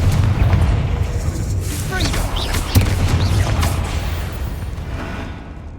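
A Confringo blasting spell goes off in a video game as a loud, rumbling boom with a sharp crack partway through, then a broad roar that slowly fades, with a voice faintly present underneath.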